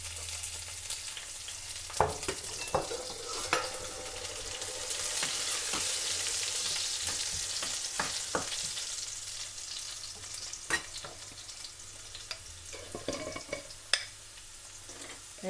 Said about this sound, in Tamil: உள்ளியை போடுவோம்.